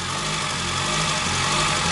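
The engine of a Derby project car idles roughly with its idle speed throttled down, giving a steady low rumble and faint knocking vibration close by, with no talking.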